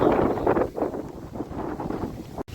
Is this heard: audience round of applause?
no